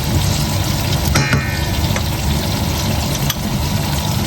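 Cleaned, drained shrimp fry in a pan for spaghetti aglio e olio, giving a loud, steady sizzle that continues without a break, with a few faint clinks from stirring.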